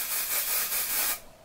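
Batiste dry shampoo sprays from an aerosol can onto long hair in a loud, close hiss that pulses a few times before cutting off abruptly.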